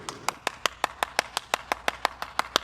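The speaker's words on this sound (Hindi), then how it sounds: "इतनी मुश्किल से तय की है यार, तालियां तो बजाओ।" Fifteen or so single hand claps in an even, fairly quick rhythm, sharp and close in a quiet indoor room, with no talking.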